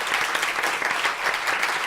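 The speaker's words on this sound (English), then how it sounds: "let's give them a round of applause" Warm applause from the audience at a law school evidence competition, a steady, full wash of many hands clapping at moderate distance, with no speech over it.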